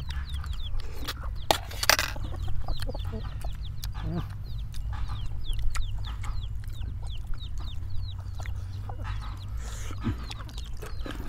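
Backyard chickens cluck steadily at a rural home, a busy overlapping chorus of short clucks close by, with a dog and other birds faintly in the background.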